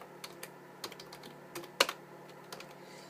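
A gamer taps away on a computer keyboard while playing Black Ops 3 with keyboard and mouse, giving irregular, close clicky keystrokes with one sharper clack partway through, no talking.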